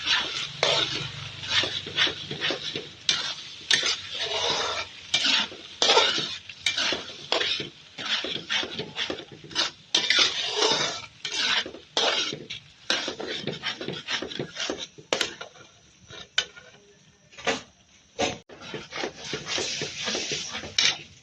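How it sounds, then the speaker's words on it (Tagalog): Spaghetti sauce being stirred in a cooking pot, with a spoon scraping and knocking against the pot in steady, rapid repeated strokes up close, and no talking. "Haluin ng mabuti ang spaghetti sauce."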